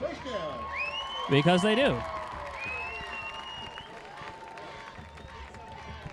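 A high school football crowd at a Pearland versus Alvin game cheers and claps for an apparent first down, swelling briefly into a loud roar with whoops before fading back to murmur, with an announcer speaking over it.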